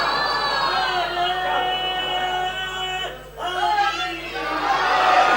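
A crowd at a majlis-e-aza calls out religious slogans in loud overlapping voices, swelling, briefly dipping, then rising again, with a speaker's voice among them.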